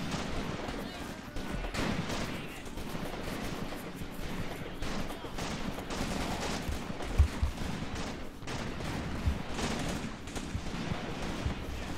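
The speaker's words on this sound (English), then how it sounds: "Our men are returning fire, and that's what counts." Dense gunfire in the WWII game Graviteam Tactics at Shilovo 1942, troops returning fire in a steady crackling barrage of rifle and machine-gun shots with distant thuds, continuous and moderately loud throughout.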